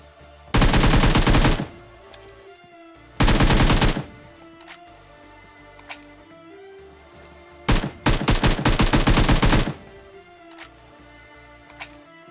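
Automatic fire from an AKM rifle fitted with a compensator in PUBG Mobile: three rapid sustained bursts, the last longest, separated by quieter game ambience with faint clicks.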